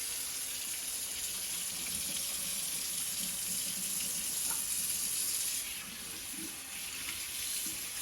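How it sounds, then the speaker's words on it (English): Cold tap water runs in a steady, continuous splashing stream over cured pork belly in a sink, close and unbroken throughout, with no speech. "And then under cold running water."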